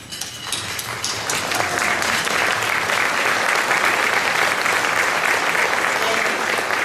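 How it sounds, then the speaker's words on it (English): At the 2014 NOACA annual meeting, an audience gives the standing board of directors a sustained, even round of applause that builds slightly and stays loud and dense for about seven seconds. "All of those, please stand as we applaud you."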